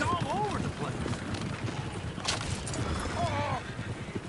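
Horses in the Red Dead Redemption 2 video game clop and whinny amid game music and ambient noise, with voices talking and shouting over the commotion.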